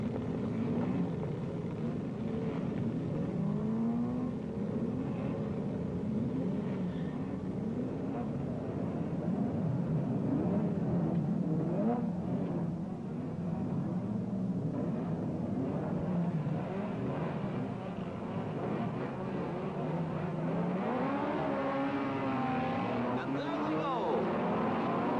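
A record 27-car grid of race cars at Mosport in 1962 starting the first 100-mile heat: a dense, continuous roar of many engines close by, with revs climbing and falling in overlapping whines that rise sharply near the end.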